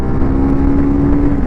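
A 2025 TVS Apache RR310, a 300 cc race-styled motorcycle, roars loudly and close during a gear-to-gear acceleration run, its engine holding one steady, strained drone.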